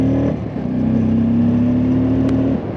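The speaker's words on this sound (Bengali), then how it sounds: "শটল দেওয়ার সময় একটু কমেন্ট করে জানাও তোমরা, কেমন একটা স্পোর্টি সাউন্ড আসছে কিনা কমেন্ট করে জানাও" A motorcycle engine revving hard as the throttle opens on a hill road, a close, loud, sustained droning roar that climbs slightly in pitch, with a short dip near the start.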